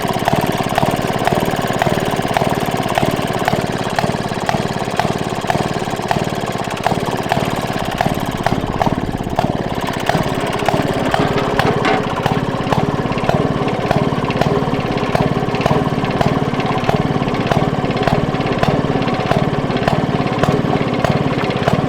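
Hit and miss engine on a homestead running after a kick start, a loud, close chugging with regular rhythmic firing pulses about once a second over a continuous mechanical rumble, no voices.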